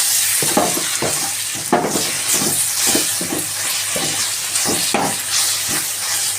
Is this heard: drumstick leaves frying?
yes